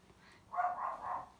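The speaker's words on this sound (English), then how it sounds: "dog is barking" A dog barks indoors at some distance, a short burst of two or three muffled woofs run together, moderately loud over a quiet room.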